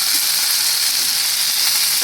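Mustard seeds spluttering in hot oil for a Gujarati potato-and-chili sambharo, a bright, even, continuous sizzle with a faint crackle, heard close and alone.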